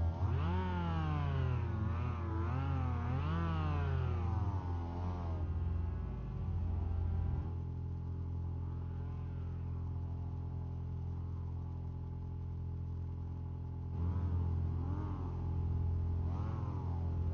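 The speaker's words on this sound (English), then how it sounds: "Foot on the accelerator, it is time to rev up the engine here" Mazda MX-5 race car engines in a racing video game rev hard at the start line, with rising and falling pitch sweeps for several seconds, a steadier drone in the middle, then renewed revving near the end.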